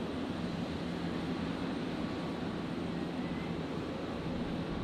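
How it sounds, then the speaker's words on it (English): A Link Airways Saab 340 turboprop lands on runway 01 right at Brisbane Airport, a steady moderate engine roar with a faint tonal hum that holds throughout, with no talking. "The Saab 340 coming in from Wollongong."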